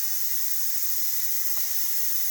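An Instant Pot pressure cooker vents steam in a kitchen while cooking white beans and ham, a steady, even hiss held without a break throughout.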